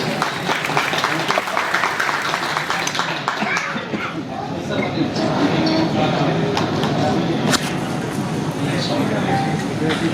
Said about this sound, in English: Give me a applause, please.